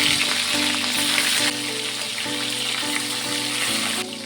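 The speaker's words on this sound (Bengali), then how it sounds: "তেলটি গরম হয়ে গেছে। এখন আমি ইলিশ মাছের মাথাগুলো ভেজে নেব।" Salted hilsa fish heads fry in hot mustard oil, giving a dense, continuous crackling sizzle at close range that holds steady throughout, with faint tonal background sound underneath.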